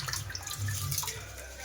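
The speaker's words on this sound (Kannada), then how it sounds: "ಈ ಥರ ನೀರು ಹಾಕಿ ಅಕ್ಕಿಗೆ ಚೆನ್ನಾಗಿ ತೊಳ್ಕೊಬೇಕು. ತೊಳ್ಕೊಂಡಾದ್ಮೇಲೆ ಆ ನೀರು ಚೆಲ್ಬಿಡ್ಬೇಕಲ್ವ ನಮಗೆ" Water pours and splashes steadily out of a pot of washed rice, a close, continuous trickling for under two seconds.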